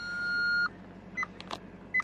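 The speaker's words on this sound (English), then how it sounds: "What are you beeping at me for?" A Maserati GranTurismo Sport's electronic warning chime for low tire pressure beeps three times, one long tone followed by two short ones, with quiet cabin noise and a faint click between.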